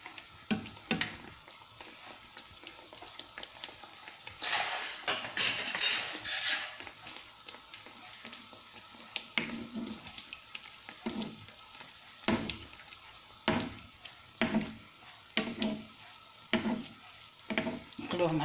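Small eggless beignets fry in hot oil with a soft steady sizzle, broken by rustling as dough drops in and then a run of regular metal utensil clinks and stirring knocks, close and moderately quiet.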